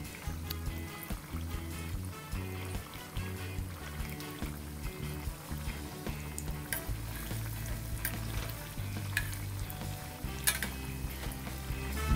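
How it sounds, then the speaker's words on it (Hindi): Coconut butter biscuits frying in a kadhai, a steady dense sizzle running throughout with a constant oily crackle and occasional sharper pops, fairly loud and continuous, with no talking. "तो आइए बचे हुए को भी फ्राई कर लेते हैं"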